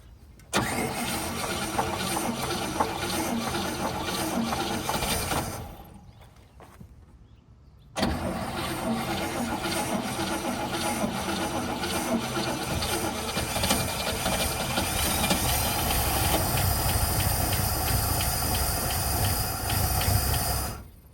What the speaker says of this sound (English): so we're gonna try to fire it up